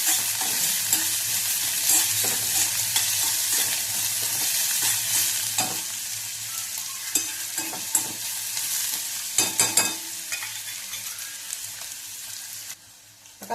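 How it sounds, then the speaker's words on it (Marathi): Finely chopped onion fries in a pan for a methi dish, a steady bright sizzle throughout with repeated scraping clicks from stirring, some sharp clusters of knocks toward the end. "आता या कांद्याला लाल कलर येऊस्तोवर आपण याला सारखं असं हलवत राहायचं।"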